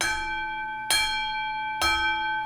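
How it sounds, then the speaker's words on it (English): Church-style bell strikes ringing out twice, each a sharp clang with a long sustained shimmering tone, spaced about a second apart and clear with no talk. "Sweet songs of the bell."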